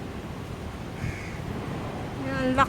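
Large birds calling with a few harsh, crow-like caws, one near the start and louder ones at the end over a low background murmur.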